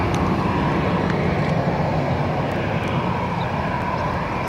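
An Air Arabia airliner taxiing toward the holding point at Barcelona airport: a continuous, even jet engine rumble and whine at moderate distance, steady throughout with no voices.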